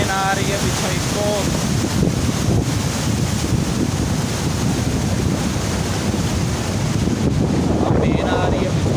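Heavy rushing water pours through the Munda Branch canal headworks in a constant broadband roar, close and loud, mixed with gusty wind noise and a few brief high chirps near the start and end.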